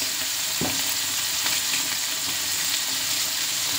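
Chicken browning in a frying pan for a chicken and beef bacon stew, a steady loud sizzle of hot oil with a few scraping stir strokes, close up and without talk.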